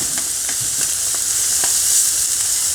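Catfish pan frying in hot oil, a constant hissing sizzle with small pops scattered throughout, close and steady, with no talk.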